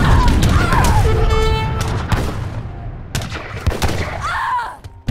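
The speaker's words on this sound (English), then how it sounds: "So that's what you get for shooting at my villagers" Gunfire aimed at villagers in the strategy game Age of Empires, a loud, busy battle mix of repeated shots and booms with clashing game effects and tonal alert sounds, dense throughout and thinning briefly toward the end.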